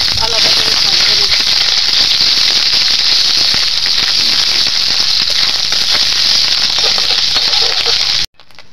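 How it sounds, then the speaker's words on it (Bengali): Fish roe frying in hot oil with black cumin gives a loud, steady, crackling sizzle throughout, with a faint voice in the background, before cutting off abruptly near the end. "তেল গরম করে কালো জিরা দিয়ে দিয়েছি, এবারে আমি ডিমটা দিয়ে দিলাম।"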